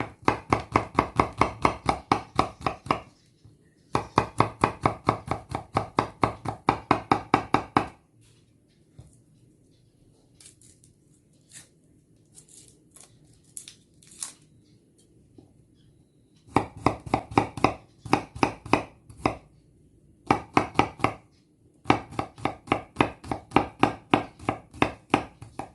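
Garlic cloves being chopped rapidly with a knife on a cutting board for a sweet chili dressing, steady fast knocking in several long bursts separated by short quiet pauses, close and loud with no talking.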